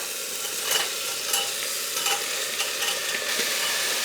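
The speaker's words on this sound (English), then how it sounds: "Now we'll add roasted cauliflower and potatoes in it." Roasted cauliflower and potatoes stirred into a sizzling spiced curry pan of cumin and coriander, with a steady frying hiss and soft scraping stir strokes close by, no talking.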